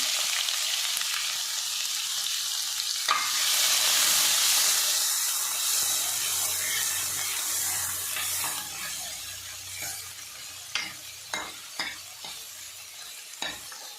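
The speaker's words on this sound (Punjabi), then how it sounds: "ਪਿਆਜ਼ਾਂ ਨੂੰ ਸੌਫਟ ਹੋਣ ਤੱਕ ਭੁੰਨਾਂਗੇ ਅਸੀਂ ਸਾਡਾ ਪਿਆਜ਼ ਇਹ ਭੁੱਜੀ ਜਾਂਦਾ ਹੈ" Onions fry with cumin in a pan for a spinach and chana dal tempering, starting with a loud hissing sizzle that settles into quieter frying, then a few spoon knocks near the end.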